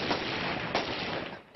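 Police fire into a crowd of workers during the December 2011 clashes in Kazakhstan. Heavy, sustained gunfire roars on with a couple of louder bursts, sounding harsh and somewhat distant through a rough recording.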